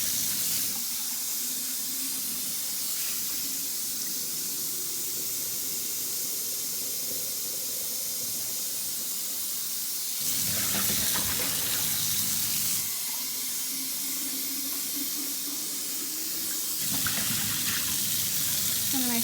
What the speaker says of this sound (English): This water is very hot too. And now I will rinse them out completely.